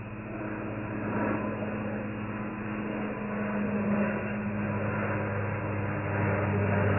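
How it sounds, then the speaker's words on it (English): A small Caravan propeller plane flies straight overhead above a safari drive at Thornybush Nature Reserve, its steady droning hum holding at a moderate, fairly distant level and swelling slightly as it passes. "Here comes that plane now. It comes straight over."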